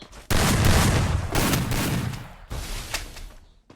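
Gunfire in the Free Fire battle game, with a dense burst of rapid shots, a second sustained volley and a shorter trailing burst, loud and continuous across the span with no talk.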